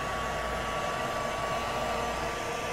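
A heat tool blows over a watercolor card, a steady, close, loud whooshing hum with a faint whine, unbroken and with no talk.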